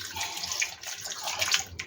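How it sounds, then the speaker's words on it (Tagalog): Water pours steadily into a cooking pot of tilapia paksiw, a close, bright splashing stream lasting under two seconds with no talk. "Tapos, lagyan natin ng tubig."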